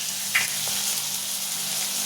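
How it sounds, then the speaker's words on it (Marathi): Chopped onion browns in hot oil in a pan for a dry spiny gourd dish, giving a steady, close sizzling hiss throughout with one brief sharper pop near the start. "छान 5 मिनिट लाल होऊ देते कांदा।"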